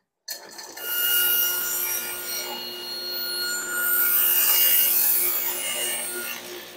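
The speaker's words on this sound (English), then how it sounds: "I'm going to cut this particular piece of MDF down to size" A saw works steadily through a piece of MDF being cut to size, a continuous rasping, grinding drone that swells and eases slightly over several seconds, close by with no speech.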